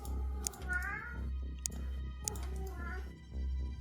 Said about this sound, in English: that's one of my cats